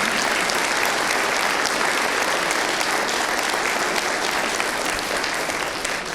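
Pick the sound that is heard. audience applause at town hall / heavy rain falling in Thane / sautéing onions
audience applause at town hall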